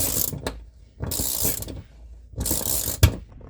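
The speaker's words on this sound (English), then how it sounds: "or just ratchet it, however you want" A ratchet wrench tightens a bolt in three bursts of rapid, close clicking, separated by short pauses as the handle swings back.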